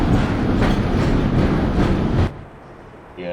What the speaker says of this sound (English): is the train gonna stop?